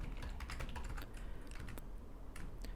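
Quiet, close typing on a computer keyboard while writing PHP code, with uneven bursts of key taps and no voices.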